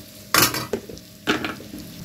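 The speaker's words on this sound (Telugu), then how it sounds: "ఒక 5 నిమిషాలు అయిందండి, ఒక్కసారి కలిపేసుకుందామా" Bitter gourd fry is stirred in a pan, with two or three distinct scraping strokes of a spoon against the metal over a soft background sizzle.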